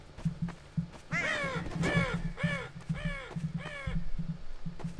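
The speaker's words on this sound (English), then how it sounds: "Nasty birds." Crows caw repeatedly in Garry's Mod, five harsh, descending calls in a steady rhythm, loud and close over a low, pulsing ambient hum.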